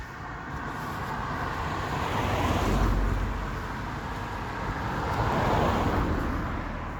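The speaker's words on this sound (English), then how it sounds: "just let this car go past" A car passes on a road outdoors, a broad tire and engine roar that swells, eases, then swells again as traffic goes by, steady and moderately loud with no talking.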